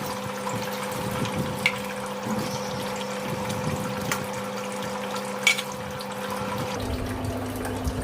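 Soaking water drains off horse gram in a kitchen as a continuous trickling pour with a faint steady hum beneath and a small clink near the end, with no voices.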